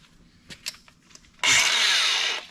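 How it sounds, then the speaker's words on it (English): An angle grinder grinds down a brake rotor during a Wilwood big brake upgrade on a Can-Am X3. A loud, steady harsh whine runs for about a second, after a few brief clanks and faint shop noises. "We'll get the grinder."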